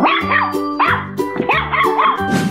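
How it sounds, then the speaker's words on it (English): A cartoon dog barks in a quick series of loud, close yips and bow-wows with whimpering tones, several barks in a row in a children's animal animation. "Nice. Dog."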